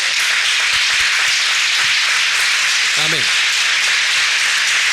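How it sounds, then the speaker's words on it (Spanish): A church congregation breaks into sustained applause, a broad hissing wash of many hands clapping throughout, with a single spoken word cutting in briefly near the middle. "Dale un aplauso a Él"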